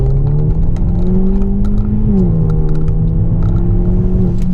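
A 2018 Hyundai Elantra Sport engine fitted with an aFe Scorcher GT module revs hard and close, its droning pitch climbing, dipping briefly at a gear change, then pulling steadily again.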